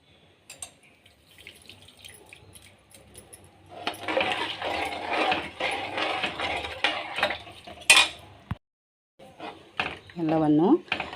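Capsicum, potato and rice bath mixture being stirred in a pot, giving irregular scraping and clinking of a spoon against metal, moderately loud and busy for several seconds, with a short break before a final burst of clatter.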